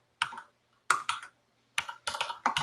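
Code is typed on a computer keyboard in short bursts of quick key clicks separated by pauses, close and fairly quiet.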